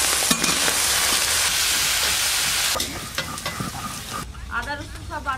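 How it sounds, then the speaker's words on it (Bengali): Spring onion stalks fry hard over a full gas flame for a prawn kalia, giving a loud, dense sizzle. The sizzle eases after a few seconds into softer crackling with occasional stirring scrapes. "চিংড়ি মাছের কালিয়ার জন্য পেঁয়াজ কলিগুলো হালকা করে ভেজে নেব"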